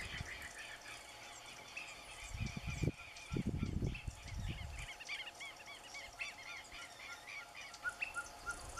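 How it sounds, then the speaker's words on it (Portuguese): Many small birds mobbing a ferruginous pygmy owl call in a busy, overlapping chorus of sharp chirps, with a brief burst of louder, lower honking calls partway through. "uma caburé real na natureza, sendo importunada pelos passarinhos"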